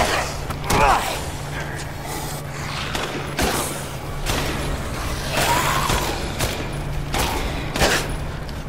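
Gunfire in Resident Evil Village, a string of sharp shots fired at irregular intervals, each crack punching out of a steady low hum, with clanks and mechanical handling noises in between.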